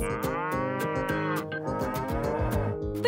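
A cow moos in a long, sustained low call over a cheerful farm-animal nursery rhyme backing track with a steady bouncing beat.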